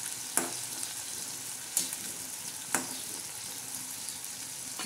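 Ground green chilli and peanut paste frying in a spice tempering for a methi vegetable dish, a steady close sizzle broken by three sharp spoon scrapes against the pan.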